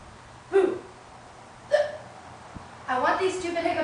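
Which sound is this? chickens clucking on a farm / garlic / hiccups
hiccups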